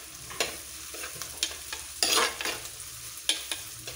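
Curry leaves fry in a pan while a spoon stirs them, giving scraping, clattering strokes about once a second over a soft sizzle, close and clear with no talk.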